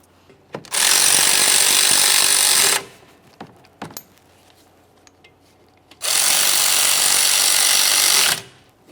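A power tool drives caliper bolts into the rear brakes of a 2001-2005 Ford Explorer Sport Trac, two loud, steady whirring runs of about two seconds each, close up, separated by a few faint clinks.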